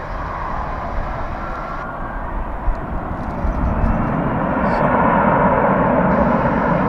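A loud, steady airplane engine drone fills the scene at DFW Airport near the runway, growing heavier partway through, with faint voices in the background.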